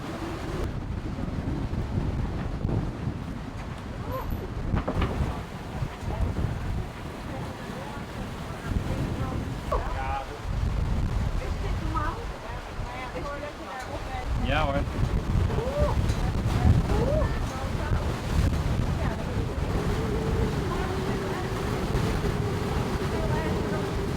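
Strong gusting wind of up to 32 knots buffets a sailboat near Greek islands, a steady loud roar of wind noise with water rushing beneath and a faint voice at times.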